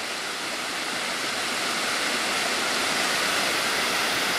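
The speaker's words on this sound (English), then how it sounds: "Washford River comes through." The Washford River flows close by in a constant, even rush of running water, with no other sounds.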